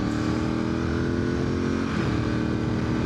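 A classic Ducati 748R motorcycle engine drones steadily while being ridden on a winding road, loud and close, with a continuous throbbing rumble and no pauses.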